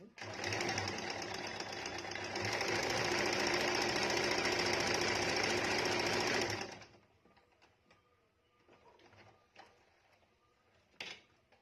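An Usha Janome embroidery machine stitches the letter G with a fast, loud, continuous mechanical chatter for several seconds, then stops, leaving quiet handling noises and a faint voice.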